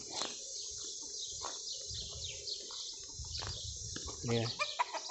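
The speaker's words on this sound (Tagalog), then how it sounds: "May mga manok." Chickens cluck steadily nearby in a Saudi date garden in hot weather, repeated short clucks over about five seconds with a louder burst of calls near the end.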